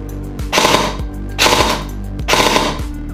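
Three rapid bursts of full-auto fire from a CYMA AKS-74U airsoft rifle, each a fast rattling string of shots about a second long, close and loud.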